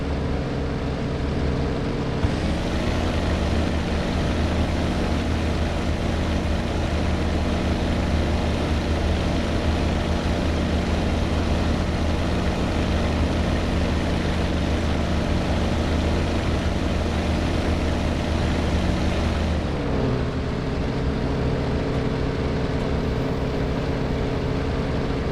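Aircraft engine drones steadily at high power as the plane climbs before a rocket attack dive, loud and continuous, with the pitch shifting briefly near the start and again near the end.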